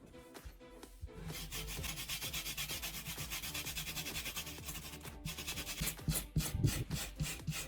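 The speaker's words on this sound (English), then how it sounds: "To prep the leather, I use a wire brush and lightly rough up the surface." A wire brush is worked back and forth over a leather surface to roughen it, producing a close, rhythmic dry scratching and rubbing that grows busier toward the end.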